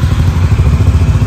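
A Honda CB350 Highness motorcycle engine runs close by with a deep, loud, rhythmic low thump and a clattery mechanical edge, steady throughout the short stretch.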